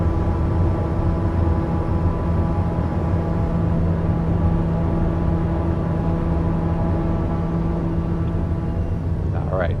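Airliner landing in a flight simulator with reverse thrust engaged, a loud sustained engine roar with steady droning tones that holds evenly throughout, no voices over it.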